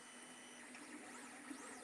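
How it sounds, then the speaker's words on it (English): 3D printers running in a naval facility workshop, a quiet, steady mechanical whir with faint sweeping motor tones, heard at a distance with no talking. "Like this place is riddled with 3D printers."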